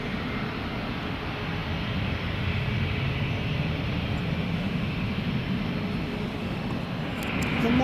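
A steady, broad roar of an aircraft engine at Manchester Airport holds throughout without a break, rising slightly toward the end as if drawing nearer.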